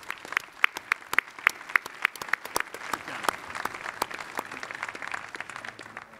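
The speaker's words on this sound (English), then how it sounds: "Please join me in a round of applause for them." An audience applauds a six-member panel at a conference, with dense, close, steady clapping lasting throughout and individual sharp claps standing out.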